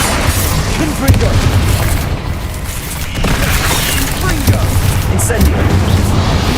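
Blasting spell explosions in Hogwarts Legacy gameplay, a dense, loud series of booming bursts and crackles layered continuously over game noise, with a sharper hit near the start and more around the middle.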